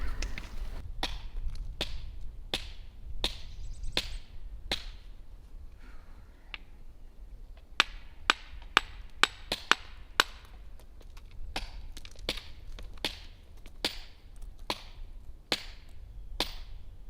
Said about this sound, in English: I'm starting to think it might not be worthwhile chiseling at the bedrock.